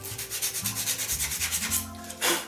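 Sandpaper rubs back and forth over a cork flute surface in quick, rhythmic strokes, close and soft, roughly a dozen even passes followed by one longer, louder scrape near the end.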